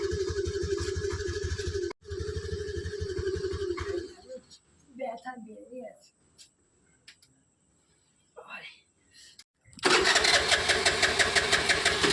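An engine turns over and runs roughly for a few seconds, cuts out, and then after a quiet stretch with soft whispery speech it fires again loudly near the end.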